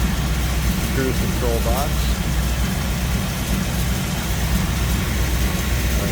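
A 1949 GMC 150 five-window pickup engine idles steadily with a low, even rumble throughout, while someone talks over it.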